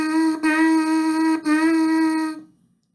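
A brass player buzzes tongued notes on a lone mouthpiece, producing a steady nasal buzz on one pitch broken into three articulated pulses before stopping.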